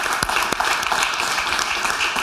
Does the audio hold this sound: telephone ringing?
no